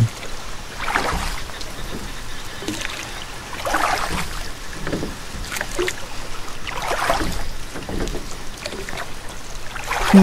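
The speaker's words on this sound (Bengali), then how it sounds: "দেখলাম একটি নৌকা ধীরে ধীরে কুয়াশার মধ্যে থেকে ভেসে আসছে।" Rhythmic splashing of oars dipping into river water as a boat crosses, repeating about every three seconds, with a soft background hiss of wind and moving water; no voices.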